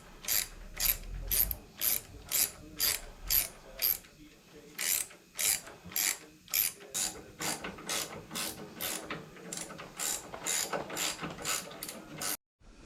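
Ratchet wrench loosening bolts on a 1976 Harley-Davidson FLH transmission: a long run of quick, crisp clicking bursts in steady rhythm, close and fairly loud, with no talking.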